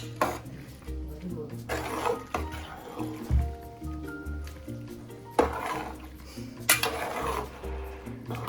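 A jackfruit mixture with coconut, jaggery syrup and cardamom powder stirred in a pot while cooking at a Kerala village, with wet sloshing scrapes and occasional metallic knocks against the pot, under low background hum.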